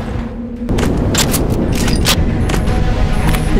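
Gunfire in a film scene: a sudden loud burst of shots that keeps booming and cracking repeatedly, a heavy rapid fusillade close by with sharp high cracks scattered over the rumble.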